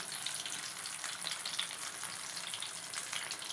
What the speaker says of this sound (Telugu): మీడియం ఫ్లేమ్లో పెట్టి బాగా కాల్చుకోవాలి